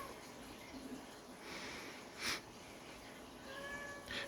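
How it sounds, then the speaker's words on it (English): A cat meows faintly a few times over a steady background hiss, with short separate calls spaced out and no talking. "I need to feed this cat"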